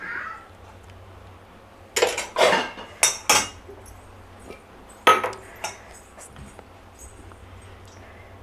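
Several sharp metallic clanks and a clatter as a kadai is set on the stove, spaced unevenly over a quiet kitchen background, with no voices.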